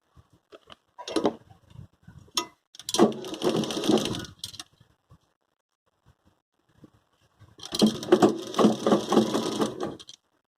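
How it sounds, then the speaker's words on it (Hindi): Sewing machine stitching a cotton dress for a small Laddu Gopal idol, running in two bursts of rapid mechanical clatter, close and fairly loud, with short quiet gaps and light handling noises between. "अब इसे दूसरी साइड से मैं सिल लेती हूँ"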